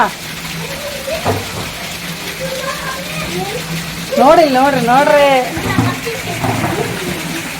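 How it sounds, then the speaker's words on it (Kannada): Heavy rain pours down outdoors during a monsoon downpour, and water runs off overhead. A steady, broad hiss continues throughout beneath several voices talking and calling out nearby. "ಫುಲ್ಲು ಬರಕತ್ತದ ಮಳೆ"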